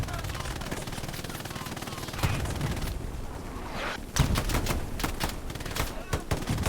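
Rapid gunfire crackles through a World War II shooter battle set in Carentan, bursts of automatic shots and single cracks stacking into a dense fusillade, with a commentator's voice running underneath.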